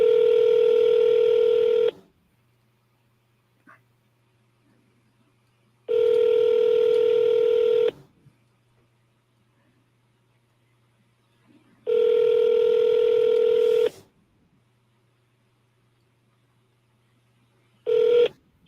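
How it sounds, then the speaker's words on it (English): Telephone dial tone sounding in three steady, loud two-second bursts separated by silence, plus a short fourth burst at the end, on a call placed to a seller. "Oops, I did not mean to press dial."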